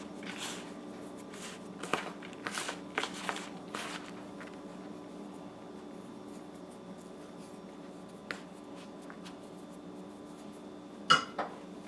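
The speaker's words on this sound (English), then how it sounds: "you want to mix this with your hands at the end, guys, to make sure everything is incorporated" Hands kneading and mixing coconut bun dough with brown sugar in a kitchen, giving soft irregular squishing and patting sounds with a few sharper taps and clicks, fairly quiet and close, with no talking.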